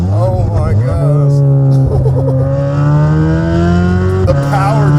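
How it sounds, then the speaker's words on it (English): A Chevrolet Corvette C8 Z06 with an AWE exhaust revs loudly up close, the pitch climbing, dipping and surging again in repeated throttle blips, with a voice faintly present underneath. "And then you got this exhaust, this AWE C8 Z06 exhaust on the car"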